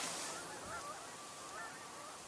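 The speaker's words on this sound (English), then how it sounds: "We're hearing a flock of Canada geese, by the way." A flock of Canada geese flying at fairly high altitude gives faint, distant honks, a few short calls that rise over a hiss of outdoor background noise.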